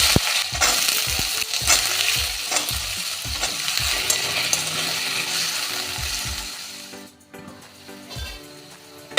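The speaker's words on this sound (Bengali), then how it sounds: "এই আলুটা ভেজে নেব।" Diced potatoes fry in hot oil while a utensil scrapes and stirs them in repeated knocking strokes over a bright, steady sizzle. The sizzle thins out near the end.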